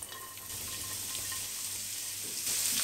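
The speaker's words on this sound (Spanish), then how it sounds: "En la misma sartén, con todo esto que está aquí, que está riquísimo, una gotita más de aceite, ponemos a pochar nuestro ajo y nuestra cebolla" Garlic and onion sizzle steadily in oil in a frying pan, a close, continuous crackle with no talk.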